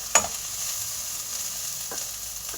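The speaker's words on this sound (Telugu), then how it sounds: "చూడండి మంచిగా ఫ్రై అవ్వాలి" Oil frying in a pan before taro (colocasia) goes in, a soft continuous sizzle broken by two brief spatula or spoon scrapes against the pan.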